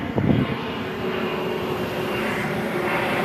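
A helicopter flies overhead, its engine a steady droning hum at moderate loudness throughout, with a slightly louder swell near the start and no talking.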